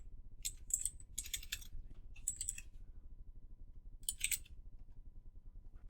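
Typing on a computer keyboard in short bursts of rapid soft key clicks separated by pauses, close and quiet over a low steady hum, with no voices.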